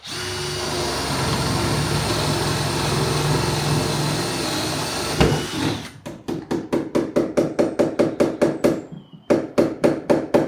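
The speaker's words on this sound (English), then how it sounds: "I'm going to drill a hole here to feed the wire through." A drill whirs steadily for several seconds boring a hole through a wooden joist, then gives way to a fast run of sharp, regular knocks and bursts close by.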